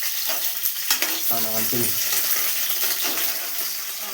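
Puri dough for pani puri frying in hot oil, a steady close sizzle and crackle running the whole time, with a short spoken phrase early on.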